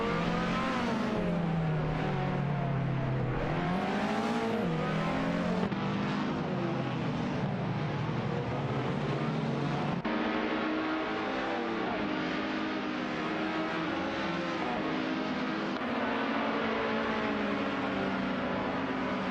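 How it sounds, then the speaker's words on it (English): Engine roar of several race cars on track in an AI-driven racing video game, a steady dense drone with rising and falling pitch sweeps as cars accelerate and shift, continuous and loud throughout. "asak 72, Sir Ironbot, Elvaneni and Androvich are fighting for P24, with different car models on the track"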